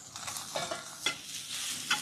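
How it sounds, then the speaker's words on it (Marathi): Green chili, ginger and garlic stir-fried in a little oil, a quiet, steady sizzle broken by a few sharper scraping stirs of a spoon in the pan. "हिरवी मिरची, अद्रक, लसूण व्यवस्थित आपण भाजून घेऊ।"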